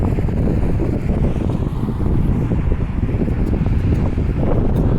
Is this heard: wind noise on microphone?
yes